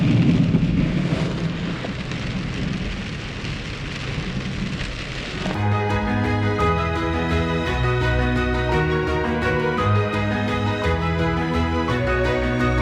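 Heavy rain pours down on a road during an off-road drive, a dense loud hiss for about five seconds before music takes over for the rest.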